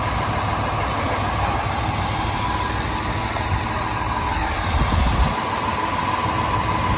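Diesel railcar engine on the Isumi Railway idling at a station, a steady low rumbling drone that holds at an even level throughout.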